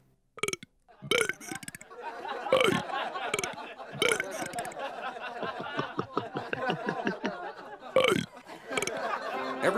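A cartoon character burps out a popular song, a string of loud rhythmic belches with short pauses, while a group chatters and chuckles in the background.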